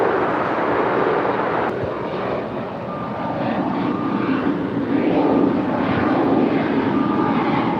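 Spirit Airlines Airbus A320neo jet taking off, a loud sustained engine roar with a broad rumbling body that swells slightly and holds steady throughout.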